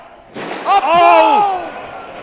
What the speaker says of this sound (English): A Michinoku driver through the door.